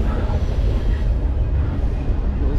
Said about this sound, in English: But you can see the trains right now.